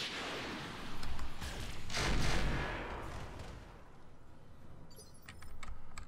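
Mech weapons fire in the Roguetech battle game, with a series of heavy booming shots and rumbling impacts swelling and fading over several seconds, followed by sharper metallic clatter near the end.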